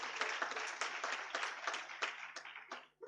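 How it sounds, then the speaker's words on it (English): Conference audience applauding at an international management conference in Indore: a short, fairly quiet patter of many hands clapping, with individual claps standing out, lasting about three seconds before stopping. "So a huge round of applause to all of you."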